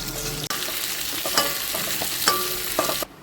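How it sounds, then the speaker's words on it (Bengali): Pieces of fish fry lightly in oil with a steady close sizzle, broken by a few sharp clinks and scrapes as they are moved in the pan, then the sound cuts off abruptly; no talking. "আমি হালকা ভেজে নেব, বেশি ভাজবো না"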